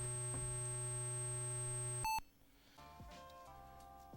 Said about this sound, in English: I'll reset, which will play a beep and clear the sound chip.